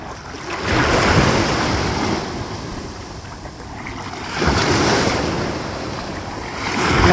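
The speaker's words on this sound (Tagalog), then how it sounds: "Nakuha na ng alon." Ocean surf surges onto the shore at Virginia Beach's First Landing, close and loud, in two or three swelling waves with wind buffeting the microphone and no talk.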